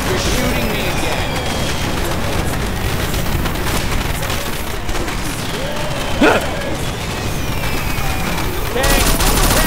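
Gunfire from Left 4 Dead 2 rattles continuously through the clip as a dense, steady barrage of game shots, with one sharper burst standing out near the middle and a busy, noisy backdrop throughout.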